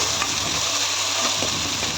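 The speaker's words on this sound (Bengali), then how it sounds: "দিয়ে আর একটু ভাজা ভাজা করে নেব" Ginger, garlic, chilli and tomato paste frying in a wok for a prawn malai curry, a dense, even sizzle up close with faint stirring, no talk.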